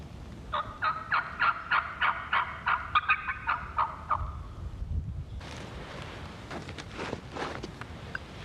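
Wild turkey gobblers strutting in a road about 120 yards off in Iowa, gobbling in a rapid run of repeated throaty bursts, moderately loud and distant outdoors, followed by rustling and wind.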